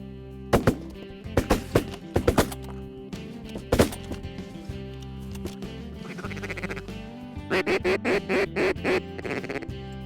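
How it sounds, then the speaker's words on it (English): Ducks quack during a fall duck hunt in South Dakota, with a steady series of calls over a busy outdoor background and a run of rhythmic quacks near the end. "Shoot that duck again."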